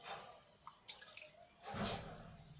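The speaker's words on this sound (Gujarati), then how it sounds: "એક વાટકી પાણી એડ કરું છું" Water splashes and trickles in short bursts, with a few drips between, ending in a fuller pour of a small bowlful into rava dhokla batter; close and fairly quiet.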